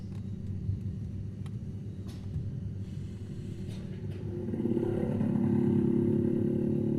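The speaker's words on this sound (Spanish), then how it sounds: "Ahí escuchamos el paso de una moto." A motorcycle engine rumbles in the distance and grows louder as it passes outdoors, with low droning and a few clatters before it.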